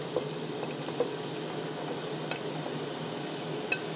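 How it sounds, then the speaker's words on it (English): Onions and peppers sizzle in butter in a pan, a steady close frying hiss with a few faint pops and stirring clicks. "And then I'm going to add in the onions and peppers."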